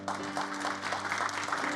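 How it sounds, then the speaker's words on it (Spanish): A church congregation applauds in a continuous, even wash of clapping over a steady low hum, moderately loud throughout. "Denle un aplauso al Señor porque Él es bueno"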